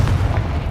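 A Confringo spell detonates in Hogwarts Legacy with a short, heavy low boom that fills the moment and fades quickly.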